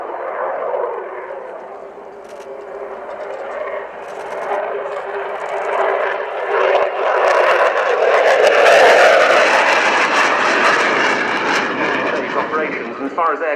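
A Sukhoi Su-27P fighter jet performs at an air display, its engine roar building from a steady mid-distance drone to a louder, broader rush that peaks and slowly eases, with a voice speaking over it.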